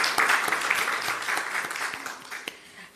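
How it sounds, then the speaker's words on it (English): A conference audience claps for an award winner at a national health research gathering. The applause is moderate and fairly even, with distinct sharp claps standing out, and it thins toward the end. "So let us give another round of applause."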